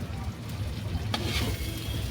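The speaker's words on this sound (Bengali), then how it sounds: "জিরে গুঁড়ো দিয়ে একটু কষে নিচ্ছি।" Potatoes fry with cumin powder in a pot over a clay oven, giving a steady close sizzle with light stirring scrapes throughout and a brief louder hiss midway.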